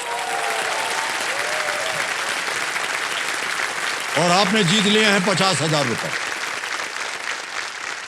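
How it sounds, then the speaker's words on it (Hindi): Studio audience on a television quiz show claps steadily throughout, while a host's voice and music rise briefly over the dense applause midway. "ताली बज जाए इनके लिए"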